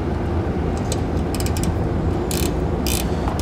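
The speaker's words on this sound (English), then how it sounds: "12mm socket." Ratchet turning a 12mm socket on a nut while installing Firestone Coil-Rite air helper springs on a vehicle, a close, loud run of quick clicks with a few brighter snaps, alone.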